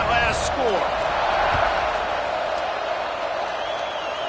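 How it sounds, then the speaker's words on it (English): A broad, steady roar from a college football stadium crowd after a touchdown, loud and continuous throughout, with a few faint thuds and whistle-like tones on top. "this crowd is buzzing after that last score"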